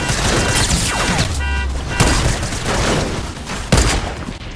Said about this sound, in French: Ah, ça tire encore, Lucas.